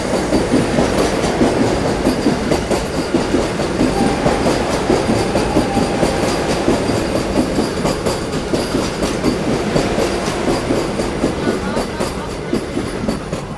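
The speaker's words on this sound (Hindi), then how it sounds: "सामने से आ रही है आप लोगों की नागपुर पुणे वंदे भारत एक्सप्रेस।" A Nagpur–Pune Vande Bharat Express rushes past on the rails, heard from aboard another train, as a loud, steady roar with dense clickety-clack of wheels throughout.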